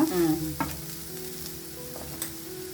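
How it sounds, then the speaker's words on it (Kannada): Onions fry on a low flame, spread across the pan, with a steady soft sizzle and a couple of brief scraping stirs near the start, with no talking. "ಲೋ ಫ್ಲೇಮಲ್ಲಿ ಮಾಡ್ಕೊಂಡು ಈರುಳ್ಳಿನ ಎಲ್ಲ ಕಡೆ ಈ ಥರ ಸ್ಪ್ರೆಡ್ ಮಾಡ್ಕೊಳ್ಳೋಣ"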